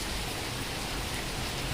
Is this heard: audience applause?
no